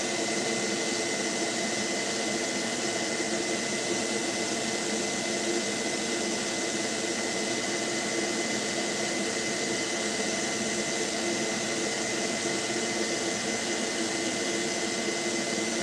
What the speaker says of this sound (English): not my hairdryer fan, but the legit airbrush booth fan